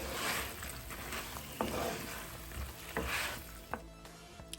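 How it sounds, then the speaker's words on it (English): Plantains frying in a hot pot with a honey glaze give off a steady, soft sizzle, with occasional light clicks and stirring scrapes close by, and no voices. "we're going to throw back our plantains in the hot pot"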